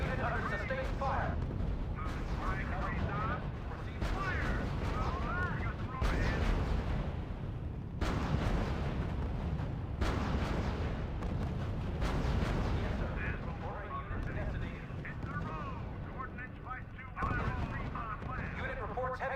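Sustained gunfire and artillery barrages pound away in a R.U.S.E. video game battle, loud and continuous with sharp blasts punctuating the roar, while in-game voices talk over the fighting.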